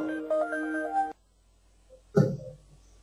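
A phone ringtone plays as a melodic electronic tone for about a second, then cuts off; after a pause, a short louder burst of other noise follows.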